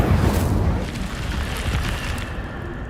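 A sustained roaring burst of flame from the Incendio fire spell in Hogwarts Legacy, loud and continuous at first, then settling into a steady rushing crackle.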